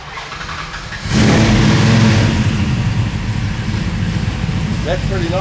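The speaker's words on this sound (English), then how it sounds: "How about we put the bonnet down, Marion, and give her a start up?" Hot rod car engine cranks and fires at about one second, then revs loudly and rumbles steadily up close, with brief voice-like chirps near the end.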